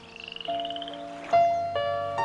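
A frog croaks close by, a rapid pulsing call followed by a few drawn-out tonal croaks, with no other sounds around it.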